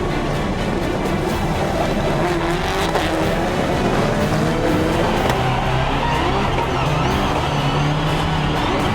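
Rallycross race cars launching at GRC New York, a loud, dense engine roar that holds steady for the whole stretch, with tire noise mixed into the constant din.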